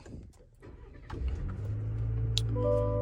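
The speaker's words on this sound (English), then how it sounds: "So I turn on the truck" A 2023 Chevrolet Colorado Trail Boss pickup truck engine starts up: a brief cranking bite, then the engine catches and settles into a steady, rising idle hum, fairly close with no speech.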